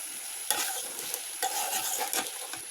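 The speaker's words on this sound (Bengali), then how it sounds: "আমি সাথে মিশে এখন নাড়াচাড়া করবো" Spiced tilapia curry sizzles steadily in a pan while a spoon stirs it, with scraping sweeps that come and go over the constant frying hiss.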